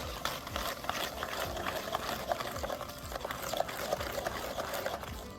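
Semolina being stirred into a blended sugar batter for Egyptian basbousa, a soft continuous wet scraping and sloshing with small clicks of the utensil, steady and close throughout.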